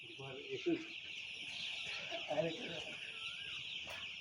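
Chickens cluck softly in short bursts against a steady hissing background, fairly faint and somewhat distant.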